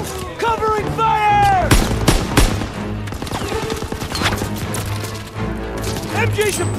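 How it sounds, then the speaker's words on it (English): Machine gun fire and bursts of gunshots in the Call of Duty: WWII campaign, repeated rapid reports mixed with explosions, shouted soldier voices and dramatic game music. "Gotta suppress the machine gun!"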